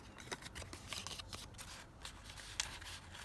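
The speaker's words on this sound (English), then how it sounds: "I will just fold that in, just ink it down the fold" Paper being folded and inked down the crease while a basic junk journal is made, heard as soft, repeated crinkling and rubbing with a few sharper taps, close and fairly quiet, with no voice.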